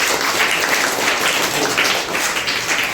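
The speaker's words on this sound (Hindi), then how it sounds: "जोरदार ताली के लिए एक बार हो जाए" Schoolchildren at a school event burst into applause, their many hands making a dense, continuous patter of claps that stays even and moderately loud throughout.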